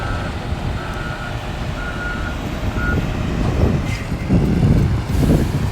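A Guyana Defense Force military transport truck reversing on a Georgetown street, its backup alarm beeping steadily over loud engine rumble and a hiss of air brakes, close and prominent.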